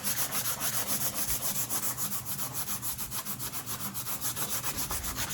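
Old sandpaper rubs back and forth over painted words on a wooden piece of thrift-store decor, a steady rhythmic scratching of even strokes, close up with no talking.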